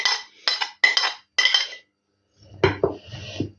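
Spoon stirring chopped onion and garlic into potatoes in a bowl, giving several separate scraping, clinking strokes of metal on dish with a pause between them. Nobody speaks.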